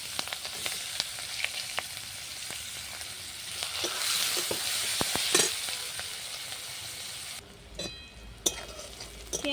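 Chopped onion sizzles in oil with black cumin and chili in a pan on a clay stove, stirred with scattered scraping clicks. Steady close frying hiss continues, then drops back partway through with a few more stirring knocks.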